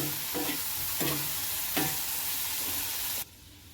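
Three sharp spoon scrapes stir a clam dish with kokum in a pan over a constant frying sizzle, before the sound cuts abruptly to a quieter hush near the end.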